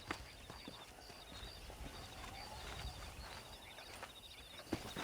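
Horses in Red Dead Redemption clip-clop at a walk, with faint hooves over an outdoor ambience of distant birdsong, quiet and steady with one brief louder knock near the end.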